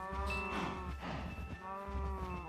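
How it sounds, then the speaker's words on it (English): Cows mooing in a Minecraft game: several drawn-out low moos overlap and follow one another, fairly clear at moderate volume. "Go ahead and breed all the cows."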